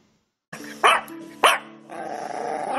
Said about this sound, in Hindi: He barked and growled at the same time.